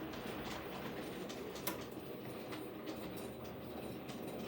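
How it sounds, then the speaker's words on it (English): An 00 gauge model express train with dining cars runs on a layout, giving a steady, fairly quiet rolling rumble with faint clicking throughout and one brief sharp tick midway. "we'll just run the express round with the dining cars in"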